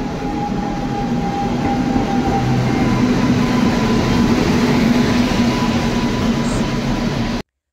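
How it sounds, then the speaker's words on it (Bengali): A train pulls into a station with a loud, steady rumble and rolling wheel noise that holds for several seconds before cutting off abruptly. "আমাদের ট্রেন আসছে।"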